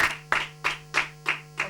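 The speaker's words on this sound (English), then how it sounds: "A round of applause for him, please." Claps for a quiz show contestant, about six evenly spaced sharp hand claps in a short burst, clear and close rather than a large crowd, with a steady hum underneath.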